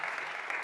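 Audience applause after a round-table discussion on sport and science, a dense, steady wash of many hands clapping fairly close and loud, with no talk over it.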